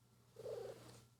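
A cat purrs softly up close, a low rumbling purr swelling briefly in the middle and then easing back down over a faint steady hum.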